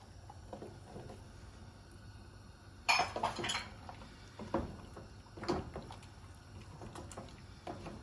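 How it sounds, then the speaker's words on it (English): Mushrooms tumble into a pot of beef stew with a few clattering, clinking knocks against metal, brief and separate over a quiet kitchen hum. "I'm going to add all my mushrooms."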